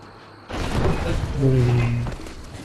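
A sudden loud firecracker boom in the PS4 game Biomutant bursts out and rumbles on with crackling debris, while a voice speaks over the noisy aftermath.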